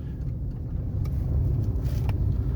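A car accelerates in a low, steady engine rumble during a manual-transmission driving lesson, with the engine note building slightly as it gains speed, heard from inside without talk.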